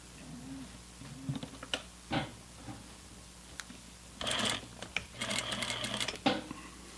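A sewing machine stitches a seam through muslin in short bursts of rapid whirring broken by pauses, close and fairly loud, with handling noises between runs.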